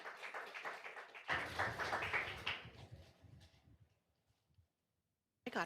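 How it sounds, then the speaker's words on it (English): Applause at a school district board meeting, a burst of clapping with voices mixed in that fades out after a few seconds, followed by near silence. "I got applause."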